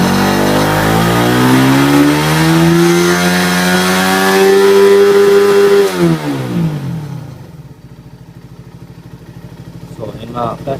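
Motorcycle engine with a UMA ECU, Rusi Flash 150 type, revving loudly and holding near its 12,000 RPM limit for several seconds, then dropping off sharply to a quieter idle.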